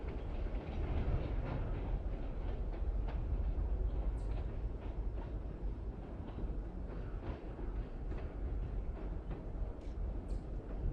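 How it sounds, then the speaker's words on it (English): A train rumbles past at a distance, a steady low roar with faint metallic squeals and clatter throughout. "there goes the train"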